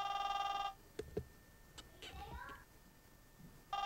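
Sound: telephone ringing

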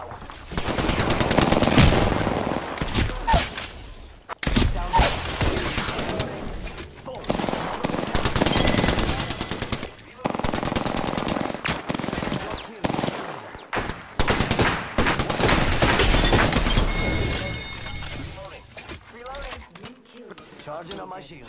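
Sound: gunfire from Apex Legends video game

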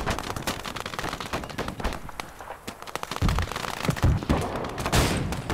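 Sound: BT tank gun firing in Gates of Hell video game

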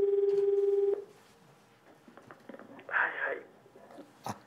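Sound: telephone dialing for a morning call

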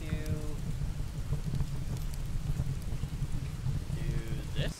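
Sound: rain

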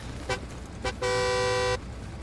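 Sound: car horn honking in video game Hell Let Loose

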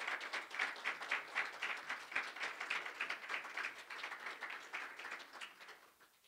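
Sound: congregation clapping

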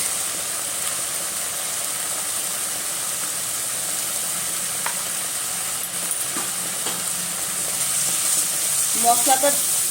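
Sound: frying spice masala with turmeric in a pan

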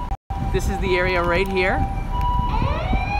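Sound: ambulance siren in Tokyo street

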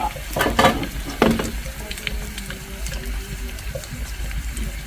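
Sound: mussels frying in oil

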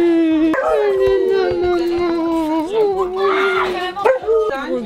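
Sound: dog crying and howling

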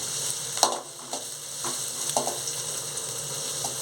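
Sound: onions sautéing in frying pan

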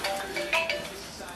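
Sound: mobile phone ringtone

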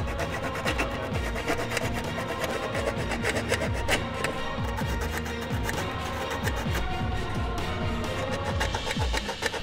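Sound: filing with a file on a key chain multi-tool

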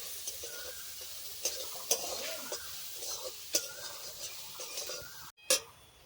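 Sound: ground chana dal being stirred and fried in a pan

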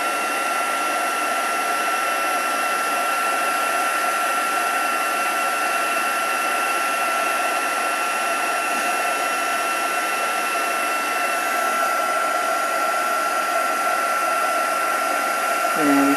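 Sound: craft heat tool blowing hot air

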